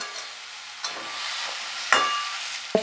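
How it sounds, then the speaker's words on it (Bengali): Stirring and mashing a fish, potato and turmeric spice mixture for bhetki kofta, quiet scraping and soft squelching strokes with a few sharper clicks of a utensil near the end. "এইভাবে নেড়ে নেড়ে এটাকে ম্যাশ করে আরও নিতে হবে"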